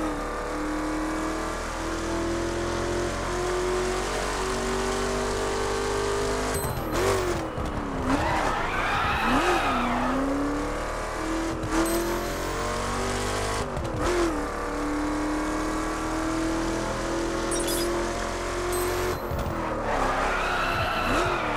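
A car in the racing video game The Crew drives with a steady engine drone that rises and falls as it revs, while repeated tire skids squeal over it, loud and close.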